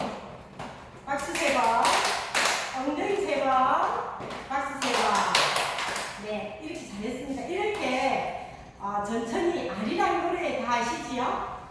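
Hands pat the belly three times in a senior exercise game, short soft taps in a counted rhythm, close and moderately loud, with an instructor's voice talking over and around them.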